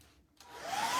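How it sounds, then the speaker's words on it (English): A hair dryer starts up and runs steadily, drying chalk-painted festive décor, its broad whooshing airflow rising in loudness after a brief quiet gap and holding close and continuous. "use your hair dryer."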